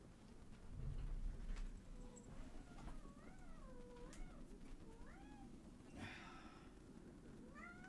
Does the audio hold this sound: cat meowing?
yes